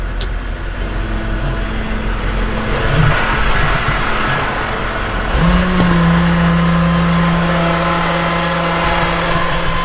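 A Chevy work truck with a dump bed and PTO switch, its engine turning over and catching, then idling steadily with a rising drone close by, no talking.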